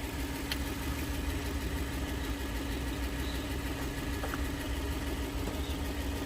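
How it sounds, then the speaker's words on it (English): A 2012 Toyota Tundra engine idles: a faint, steady low hum with an even mechanical vibration, heard alone. "Car is running."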